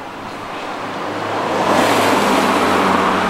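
A car drives past on a quiet neighborhood street, its tire and engine rumble swelling steadily from moderate to loud as it approaches and holds near, with no voices.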